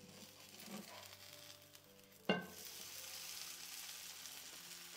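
A protein dosa sizzling softly on a pan, with a sudden louder burst of frying as it is flipped halfway through, then a steady hiss continuing afterward.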